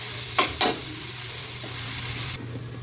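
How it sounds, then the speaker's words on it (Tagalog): Eggs and corned beef fry in hot oil in a pan for breakfast, giving a steady broadband sizzle with two sharp spattering pops early on, close and fairly loud, with no voices. "talsik-talsik ng mantika eh"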